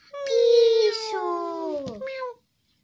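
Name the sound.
cat meowing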